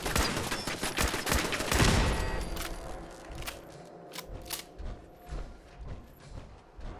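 Turret gunfire in Fallout 4, a rapid burst of loud overlapping shots in the first couple of seconds, then scattered sharper single reports and thuds spaced out over a quieter backdrop.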